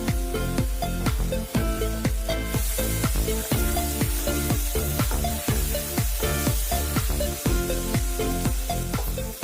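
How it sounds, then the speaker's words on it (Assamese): Pork with roselle leaves sizzles loudly in a pan over a medium flame, frying steadily for a couple of minutes while a spatula scrapes and stirs in repeated strokes. "এনেকৈ 2 মিনিটমান সময়ৰ বাবে মই এনেকৈ ভাজি থাকিম।"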